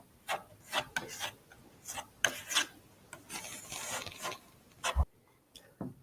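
A wooden table is sanded by hand in a rhythmic series of close, raspy strokes, roughly a dozen back-and-forth passes with brief pauses between them.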